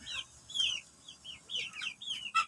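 Several chickens in a coop cluck and chirp in quick, overlapping bursts at moderate distance, with short pauses between calls.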